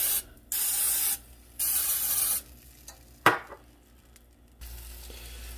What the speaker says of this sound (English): we're gonna kind of spray that